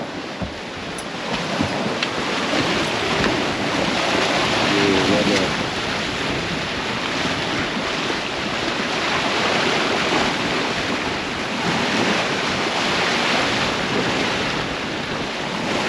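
Strong wind and breaking waves roar steadily around a sailing boat navigating through rip tides with the wind astern, a loud continuous wash with gusty buffeting on the microphone.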